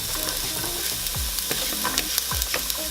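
Red onion sizzling in avocado oil in a pan, a dense close hiss overlaid with spatula scrapes and low knocks against the pan at irregular intervals.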